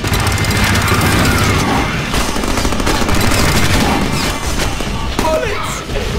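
Dense, continuous automatic gunfire in the Deadpool video game rattles on without pause, loud and close, with game noise and a voice mixed in.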